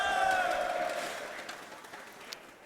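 Live esports crowd at a League of Legends EU LCS match, cheering and whooping loudly at first, then fading into scattered applause and voices.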